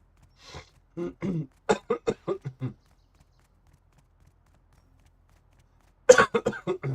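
A person coughs in a rapid burst of short, harsh coughs, then falls silent for several seconds before another quick cluster of coughs, fairly close and clear, while playing the survival game Rust.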